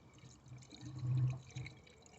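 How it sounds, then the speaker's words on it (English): Coolant pours into a Range Rover 4.4 SDV8 engine in a faint, short gurgling trickle that swells briefly, then tails off. "Get some coolant in there."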